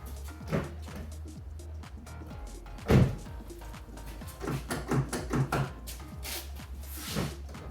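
Toyota Camry door locks release with a solid mechanical clunk as all four doors unlock from the key fob, among scattered smaller clicks and light handling thumps.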